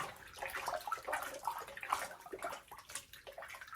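Hot water sloshes and swirls in short irregular bursts as Toss Sauce is stirred in a basin to treat cornhole bags, fairly quiet and close.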